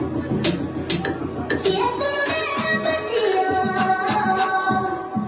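A DJ's set recorded in a club, with a song playing through the sound system in muffled, low-fidelity audio, a thumping beat and a blurred mix that continues steadily the whole time.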